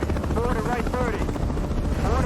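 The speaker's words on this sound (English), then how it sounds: "He's guiding the helicopter onto the actual survivor and the swimmer." Helicopter hovering low over a survivor and rescue swimmer at sea, a loud continuous rotor roar with rhythmic whine and throb, voices talking over it.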